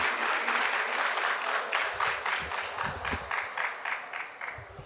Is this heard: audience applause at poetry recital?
yes